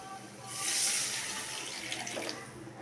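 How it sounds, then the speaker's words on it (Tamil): Water pours in a brief splashing stream into a cooking pot of curry, swelling quickly and then tapering off, fairly quiet. "மிக்ஸ் பண்ணதுக்கப்புறம் கொஞ்சமாக தண்ணி சேர்த்துக்கலாம்"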